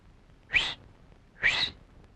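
A person whistles twice in short, sharp bursts roughly a second apart in a Tamil comedy film scene, close and fairly loud over a quiet background, with no talking.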